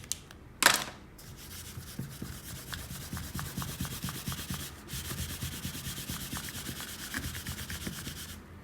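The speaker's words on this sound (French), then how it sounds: "on peut gommer nos traits de construction" An eraser rubs out pencil construction lines on a drawing of a knight, giving steady, close, soft scrubbing strokes that run continuously after one sharp tap near the start.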